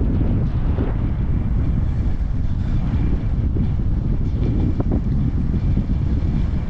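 Strong wind buffets the microphone at a misty hill viewpoint on a rainy day, a loud, constant roar filling the whole stretch without any talk.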